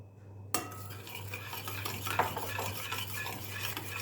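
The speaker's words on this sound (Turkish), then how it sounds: "Şimdi de yoğurdumuzu döküyoruz" Yogurt is poured into a bowl in a kitchen, with soft wet sloshing and a few light clinks and scrapes of a spoon against the dish, close and fairly quiet, with no speech.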